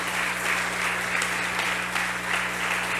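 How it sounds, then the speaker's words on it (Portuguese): Steady applause from a church congregation fills the room, dense and continuous, with a low electrical hum running beneath it. "Dá uma salva de palmas para o Senhor Jesus."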